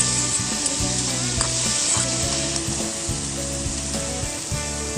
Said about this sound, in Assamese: এয়া বিলাহী ভজা হৈ গ'ল